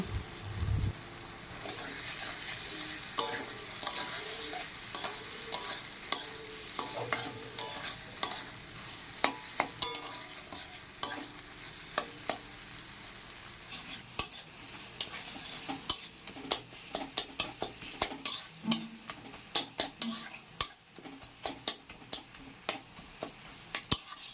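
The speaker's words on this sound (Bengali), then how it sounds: "টমেটো কুচি দিয়ে ভালো করে মশলাটা কষিয়ে নেব" Spice paste with chopped tomato frying and being stirred in a pan for a tilapia curry, a steady sizzle broken by frequent sharp scraping and clinking strokes of a spatula against the pan, growing busier toward the end.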